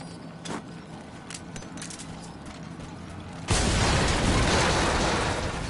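An explosive barrel blows up in Metal Gear Solid V: The Phantom Pain at a diamond mine, a sudden loud broadband blast at mid-clip that stays roaring to the end, after quieter clicking game ambience.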